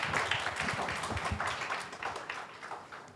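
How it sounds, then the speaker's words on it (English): An audience at a panel session gives a short round of applause, scattered clapping that starts fairly full and thins out over a few seconds. "maybe we can have a round of applause for this panel"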